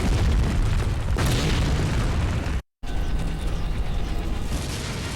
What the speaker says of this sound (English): I'm just gonna stand here in the explosions. Why are these exploding, by the way?